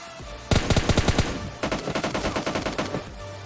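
Automatic gunfire in PUBG Mobile Lite: two loud bursts of rapid shots, the first short and sharp, the second longer and slightly quieter, with a faint ambient game hum between and after.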